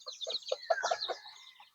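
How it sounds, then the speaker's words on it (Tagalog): Native chickens clucking close by at a tidy rural yard, a quick run of short soft clucks and a brief rising squawk, fairly quiet. "Itong mga manok na ito, native din."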